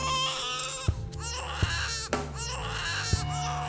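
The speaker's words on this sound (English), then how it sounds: "When the newborn finally cried, first soft, then stronger" A newborn baby cries in a dramatized scene, loud wavering wails that rise and fall across several breaths, with short gasps between cries and no speech.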